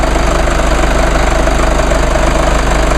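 A Mercedes-Benz GLK 250 with a 2.1-liter four-cylinder twin-turbo diesel idles steadily up close, giving a loud, continuous clattering knock with a deep, even rumble and no pauses.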